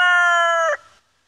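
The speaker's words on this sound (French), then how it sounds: "Le coq Cream Leg Bar essaye de m'enterrer" A Cream Legbar rooster gives one loud, close crow from a mobile backyard coop. The crow is a long sustained call that breaks off abruptly, and no voices are heard.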